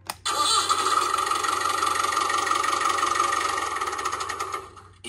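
A toy tractor from a 2024 Matchbox Action Drivers farm playset plays its electronic engine sound effect, starting abruptly with a crank-like start and then holding a buzzy, steady running rumble for several seconds before it cuts off.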